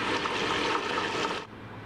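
A wet grinder churns soaked urad dal for idli batter, giving a loud, steady wet whirring and sloshing that holds constant before dropping abruptly near the end as it slows.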